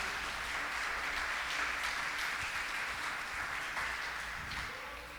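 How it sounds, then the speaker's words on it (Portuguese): A church congregation applauding, a broad, steady wash of many hands clapping at moderate distance, sustained evenly before tapering slightly at the end. "Se você é um desses, pelo amor de Deus, aplauda a Ele nessa noite."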